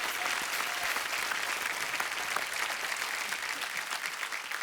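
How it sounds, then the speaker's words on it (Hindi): Sustained, loud studio audience applause fills a Hindi TV comedy show as a poet is welcomed on stage, a dense steady wash of clapping with no pauses. "सबसे पहले आप सबकी जोरदार तालियों के बीच प्लीज वेलकम कवि सम्मेलन के रॉक स्टार डॉक्टर कुमार विश्वास"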